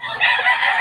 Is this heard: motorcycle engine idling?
no